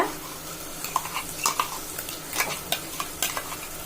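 Ground masala paste sautés for a mutton head curry, giving a steady close sizzle broken by repeated sharp scrapes and clinks of a spoon stirring against the pan, with no talking.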